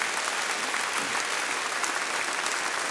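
Audience applause at a Swiss folk music gathering, a dense, steady round of clapping that stays loud and even throughout, with no voices standing out.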